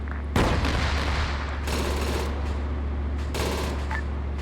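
Heavy gunfire in a tank combat video game: a loud blast near the start, followed by sustained rumbling fire with further bursts around the middle and toward the end over a constant low engine drone.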